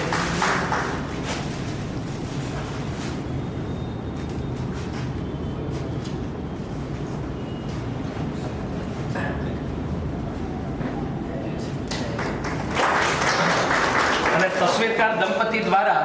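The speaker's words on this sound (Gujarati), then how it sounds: "તો જોરદાર તાળીઓના નાદ સાથે શ્રી દેવેનભાઈનું અભિવાદન" An audience claps to welcome Devenbhai at a photography exhibition in Bhavnagar: dense, sustained applause from a crowd that swells louder toward the end, with voices mixed in.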